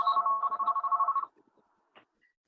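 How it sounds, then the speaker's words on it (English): A telephone rings nearby in a repeating electronic trill lasting about a second and a half, then stops, leaving near silence with a couple of faint clicks. "Somebody is ringing."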